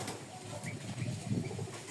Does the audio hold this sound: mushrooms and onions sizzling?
no